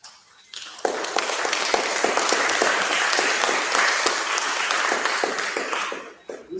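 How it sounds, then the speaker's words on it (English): Audience at an independence celebration breaking into applause, rising quickly after a brief quiet start into a full, sustained clapping from a large crowd, then tapering off near the end. "while I ask the audience to give you another round of applause."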